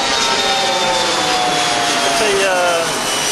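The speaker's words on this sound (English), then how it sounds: "The Comair regional jet, CRJ 200." Comair CRJ 200 regional jet passing at LaGuardia airport, a loud, steady broadband jet roar with a whining tone, holding evenly for several seconds, as a person talks over it.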